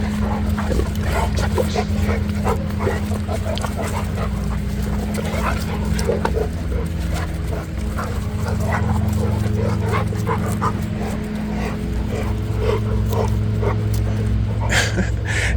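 Several dogs run back and forth in a yard, making a dense, continuous racket of movement with barks and whimpers over steady background noise, close and loud throughout.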